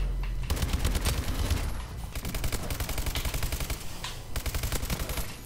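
Light machine gun fire rattles in sustained rapid bursts during a video game match, loud and dense, with a short gap near the middle and another near the end before the firing resumes.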